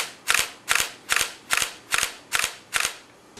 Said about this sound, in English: the A350's continuous shooting speed is relatively modest